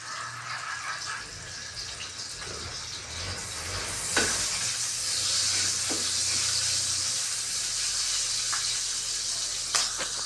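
Garlic, onion and ginger sautéing in a pan for chicken liver adobo, a steady close sizzle with soft bubbling and a few sharp clinks of a utensil against the pan.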